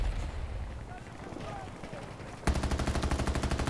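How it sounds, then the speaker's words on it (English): Heavy machine gun fire in Battlefield Bad Company 2 bursts in partway through as a rapid, loud, steady stream of shots. Earlier there is quieter game noise with a voice underneath. "And you have a huge machine gun."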